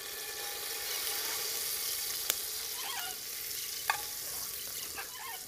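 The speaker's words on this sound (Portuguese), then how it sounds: "A água tá fervendo, tá?" Water heats to a boil in a pot for a riverside fish stew, a continuous hissing, bubbling wash with a couple of sharp ticks, close and alone.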